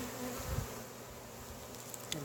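Bees hum in a steady low drone close by, with a few brief louder passes near the microphone.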